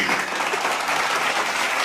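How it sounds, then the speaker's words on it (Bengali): A crowd applauds in a dense, steady burst of clapping, loud and continuous throughout with no speech on top, greeting the release of the Bengali film Dhumketu starring Dev and Subhashree. "জোরে হাততালি হবে সবাই মিলে"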